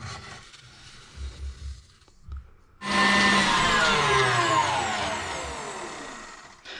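Electric mixer whipping egg whites to firm peaks for chocolate mousse, a few soft bumps and taps, then a loud steady whirring hum starting abruptly and running on with slowly shifting pitch.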